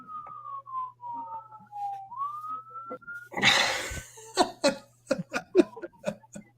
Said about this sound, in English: Now you get sirens, George.